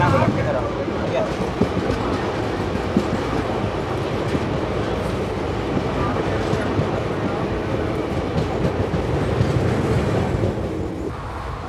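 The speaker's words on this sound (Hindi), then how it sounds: "अगर अपनी मंगला लक्षद्वीप जा रही है अपने गोवा की तरफ" A train rolls steadily along the line, heard from on board as a continuous loud rumble with rattling carriage noise and faint clicking, voices murmuring beneath it throughout.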